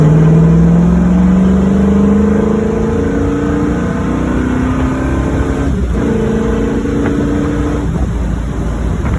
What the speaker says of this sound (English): we could probably give her a little bit of throttle and see what she does